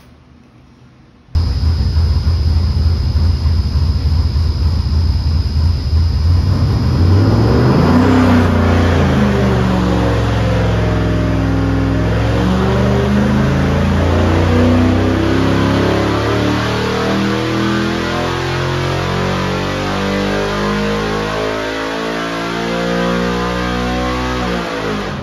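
An LS3 V8 on a dyno with a Trinity intake manifold revs hard and steadily for over twenty seconds, its loud, close roar climbing in pitch with no voices.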